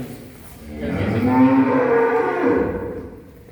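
A calf moos in one long, loud, drawn-out call that swells and then fades, close by with no talking.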